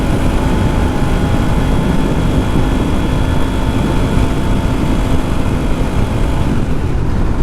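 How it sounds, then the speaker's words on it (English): Kawasaki Z400 ABS with a cheap Amazon slip-on exhaust pulling in fourth gear, a loud, steady, close engine drone with a rough low rumble throughout and no talk. "You can hear now that on fourth gear, it doesn't sound silent anymore."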